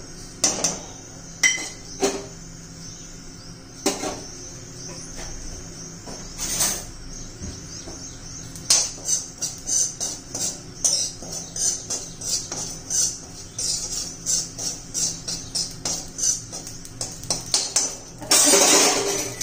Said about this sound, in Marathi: पहिली खसखस भाजून घेऊ.